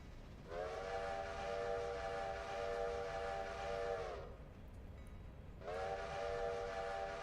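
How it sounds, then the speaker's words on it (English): A passenger train's whistle sounds as it pulls out of Hemingway station in the Railroader railway game: a long steady blast, a short gap, then a second blast, all over a low rumbling background. "Passenger trains leaving Hemingway."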